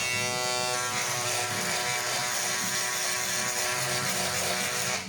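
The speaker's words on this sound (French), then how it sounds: "Donc moi, j'ai le petit rasoir à voile. Donc, je vais fignoler comme ça." A small electric razor trims a beard, its steady buzzing motor running continuously and loud close to the mic with a slight pitch wobble as it moves over the hair.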